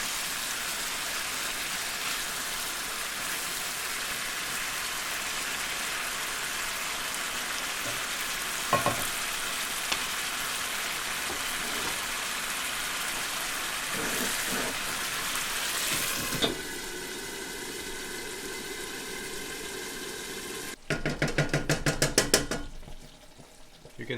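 Chicken karahi gravy simmers and reduces in a pan with a steady, close sizzle and bubbling. A brief clatter and louder crackle break in near the end.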